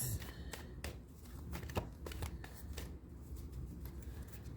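A deck of tarot cards is shuffled by hand in a quiet room, giving soft repeated riffling and sharp card snaps at an irregular pace, close but faint.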